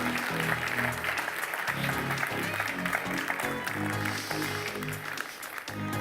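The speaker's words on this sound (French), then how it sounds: "On peut les applaudir bien fort pour les ramener à leur place." Studio audience applause at a French television debate broadcast, steady loud clapping from many hands lasting several seconds, with music or voices mixed underneath.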